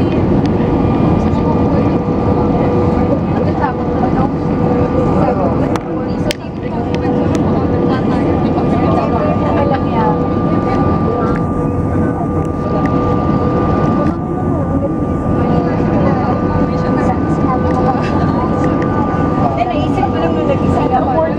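Cebu Pacific airliner touching down at Suvarnabhumi Airport, heard from inside the cabin: a loud, steady broadband engine and airflow roar fills the whole span, with a brief bump near the middle.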